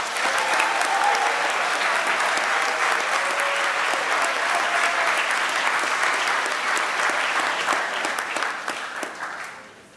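A large audience at a high school awards ceremony applauds students, a dense, even roar of clapping that holds steady for several seconds before fading out toward the end.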